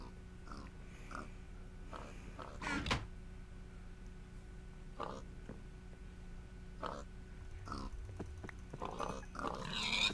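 Pigs in the Minecraft video game grunt in short, scattered bursts, fairly faint and low in the mix, with a few sharper squeals or hit sounds spread across the stretch.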